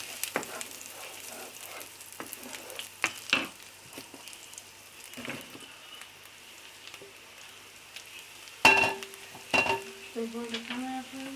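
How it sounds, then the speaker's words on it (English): Onions, mushrooms and broccoli stir-frying in butter and garlic in a pan, a soft continuous sizzle broken by sharp scraping and clattering stirring strokes, louder near the end. "I stir fried the onions, the mushrooms, and the broccoli, but separately."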